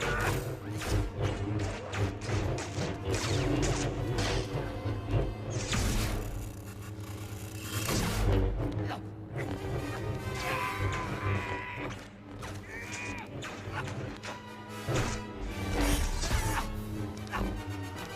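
Lightsaber duel between Yoda and Count Dooku from Attack of the Clones, with dense clashing blade impacts, whooshing swings and crackling hums over a loud orchestral score, continuous and intense throughout.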